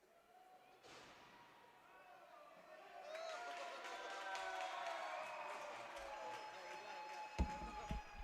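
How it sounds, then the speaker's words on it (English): At a freshman high school hockey game, Southampton and Bulls fans rise in a standing ovation, applause and cheers swelling from distant to full and sustained, with a sharp thump near the end. "That is a standing ovation you heard from not only the Southampton crowd to my left, but the Bulls crowd to my right"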